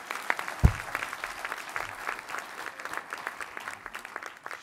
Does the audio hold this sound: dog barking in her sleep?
no